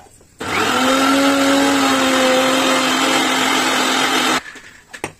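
A mixer grinder grinds onion masala into a paste, its loud, steady whirring motor running alone for about four seconds before cutting off abruptly, followed by a few faint clinks.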